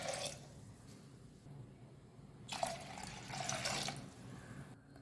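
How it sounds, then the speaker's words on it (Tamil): Water splashes and trickles as it is poured into a pot for cooking paruppu kulambu, in two short bursts over quiet background noise. "இப்போது வேக வைக்கிறதுக்கு இதில் தண்ணி சேர்த்துக்கலாம்."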